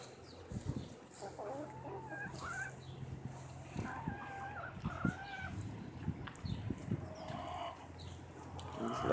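Backyard chickens clucking in a garden, soft scattered clucks and short calls near and far over a quiet outdoor background, with a low hum and occasional faint rustles.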